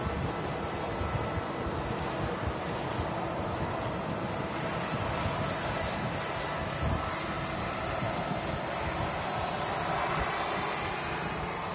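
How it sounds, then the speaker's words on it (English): A Lufthansa Airbus A320 jet at Manchester Airport produces a constant, even engine rumble with a wind-blown edge, steady throughout and heard from some distance with no voices. "There's the Lufthansa A320 heading back to Munich."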